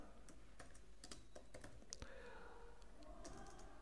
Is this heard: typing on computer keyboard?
yes